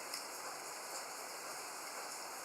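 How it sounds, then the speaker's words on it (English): Steady rain falls outdoors as an even, continuous hiss with faint scattered drop taps, moderately quiet and with no voices. "Yeah, it's raining up here today,"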